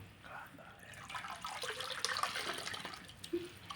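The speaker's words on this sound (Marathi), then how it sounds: "व्यवस्थित अशा पद्धतीने तिच्यातलं सगळं पाणी काढून घ्यायचं" Water draining out of boiled kurdu wild greens, a faint, uneven splashing and trickling of liquid that swells in the middle and ends with a small splash, fairly quiet overall.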